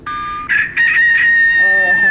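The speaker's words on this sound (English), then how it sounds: "There's different alarm settings." A wristwatch alarm set to a rooster crow plays a loud, close electronic cock-a-doodle-doo, a single drawn-out crow heard alone.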